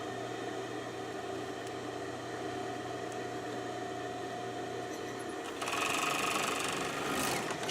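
A sewing machine stitches a stuffed animal with a steady, continuous motor whir close by, growing a bit louder and brighter near the end; no one speaks.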